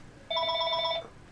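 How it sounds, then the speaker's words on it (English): A telephone rings once, a short, warbling electronic trill of under a second that is moderately loud against a quiet room, with no voices. "Oh, hang on a second. I have a phone call."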